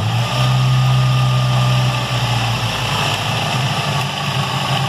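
Engine of a 2004 Ford Ranger 2.3 L running just after its throttle body was cleaned, a loud steady hum that holds evenly throughout without talk.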